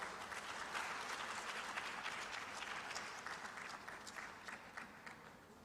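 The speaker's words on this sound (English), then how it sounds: "Please, you can clap better." An audience claps at a women's conference in Lusaka, Zambia, a dense, steady wash of many hands that holds for several seconds and eases slightly toward the end.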